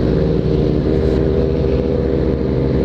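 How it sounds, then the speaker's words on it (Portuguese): Several motorcycles pass in a scenic town, their engines making a loud, continuous roaring drone that stays heavy and close throughout. "Olha, várias motos."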